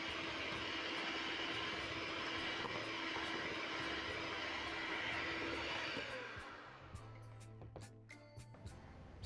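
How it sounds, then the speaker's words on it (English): An electric mixer whips butter, sugar and eggs at high speed with a loud, steady whirring drone for about six seconds. It then winds down, followed by light clinks against the bowl. "Then I'm going to increase the speed to high, whip up my butter until it's very nice and fluffy."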